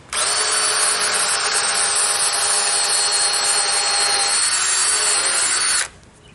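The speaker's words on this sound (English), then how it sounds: "I have to do a pilot hole." A power drill bores a pilot hole into hardened cedar on a treehouse staircase, a loud, steady high-pitched whine that runs continuously for about six seconds, then stops abruptly.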